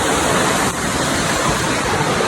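Miyamit Falls, a waterfall in Porac, Pampanga, roars as a steady, dense wash of falling water that fills the whole clip, loud and close with no break.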